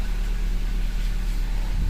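A 2015-17 Honda Civic engine idling after an oil change, a steady low rumble close by with an even hum and no talking.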